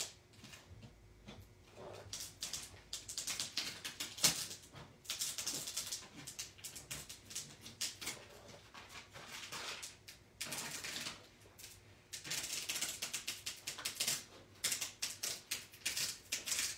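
Oracal 851 sparkling glitter metallic vinyl is peeled slowly off its backing while laid flat, giving a close, irregular crackling with bursts that start and stop.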